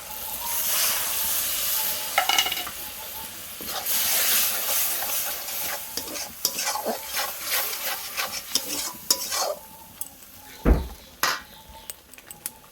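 Spice paste for prawn malai curry goes into a hot pan, giving a soft hissing sizzle punctuated by spoon scrapes and knocks, fairly quiet and uneven, swelling and fading as it is stirred.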